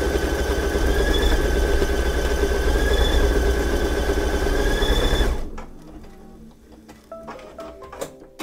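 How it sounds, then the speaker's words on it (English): A Brother embroidery machine runs a straight stitch outline, a steady loud mechanical whir with rapid rhythmic needle ticking for about five seconds, then stops, leaving quiet scattered small clicks and handling noises. "back up and do that straight stitch outline one more time"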